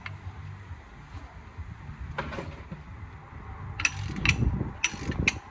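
Breaker bar on a 15 hex socket with an extension cracking loose the brake caliper bolts on a Ford Focus mk2: steady low mechanical grinding, then a few sharp metallic clicks and clunks as the bolts give, close up.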